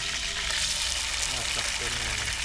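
Dalag fish frying in a thick pan, a steady dense sizzle of hot oil that holds continuous and close throughout without pause.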